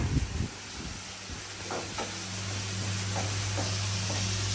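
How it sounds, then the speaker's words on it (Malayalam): Tomato and curry leaves frying in a hot pan for a Malabar-style prawn curry, a steady close sizzle with a few light stirring knocks and scrapes and no talk. "തക്കാളി ഇട്ട് കൊടുക്കുക. എന്നവിടെ അത് ഫ്രൈ ആയിക്കോട്ടെ."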